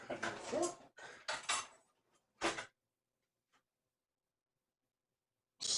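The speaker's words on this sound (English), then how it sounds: "Stir, mixing the sugar with the flour." A fork stirs packed brown sugar into flour in a bowl. It makes a few short, close scraping strokes in quick bursts, then falls silent except for a faint tap.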